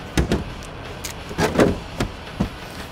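Electric trunk lid of a 2007 Bentley Flying Spur opening, a series of short mechanical clicks and motor whirs with thumps, close and fairly clear with no talking.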